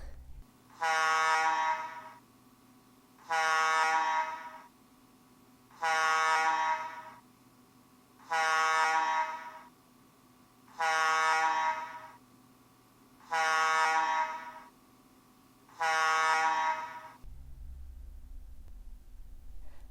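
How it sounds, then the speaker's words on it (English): H2S gas alarm air horns at a gas plant blare in a slow pulse, seven long loud blasts of about a second and a half each, separated by equal pauses, before the alarm stops. "The air horns for H2S have a slow pulse,"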